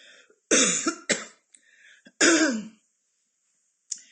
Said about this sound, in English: I'm actually going to cough, sorry.